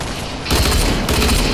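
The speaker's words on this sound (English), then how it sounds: "There's a dude right in front of you with a minigun, dude." Rapid, continuous minigun fire in Fortnite, loud and dense, growing heavier partway through with no break.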